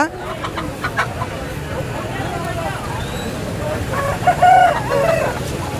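Native chickens clucking at a village poultry market, with a rooster crowing loudly near the end over steady crowd and road noise; people talk throughout.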